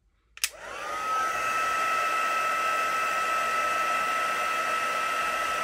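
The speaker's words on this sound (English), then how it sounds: "Again, using my heat tool, let's give it a good heat because we're going to stamp." A heat tool clicks on and spins up to a loud, steady whirring blow as it dries stamped card stock up close, holding an even airy hum without any voices.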